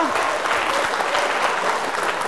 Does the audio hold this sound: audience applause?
yes